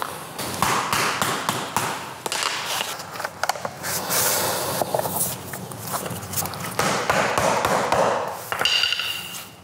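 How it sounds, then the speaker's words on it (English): A tapping block is struck again and again to knock a square-edged vinyl plank floor board into its joint, giving a quick series of sharp, close knocks and thuds in an uneven rhythm. "watch how it falls when I hit it with the tapping block"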